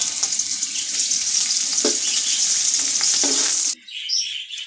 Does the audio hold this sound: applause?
no